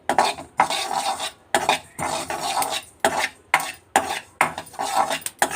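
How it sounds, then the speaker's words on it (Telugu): Sesame seeds roasting in a pan over a low flame while being stirred, giving a steady run of close scraping, rattling strokes with brief pauses between them and no talking. "నువ్వులు వేసుకున్నాను. ఇది సన్నని సగం మీద వేపుకుంటున్నానండి."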